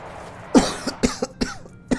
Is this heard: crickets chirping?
no